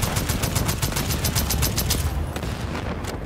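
Rapid automatic gunfire from Second Extinction blasts at a nest, a dense, steady burst of evenly spaced shots for about two seconds before tapering into scattered, fainter reports.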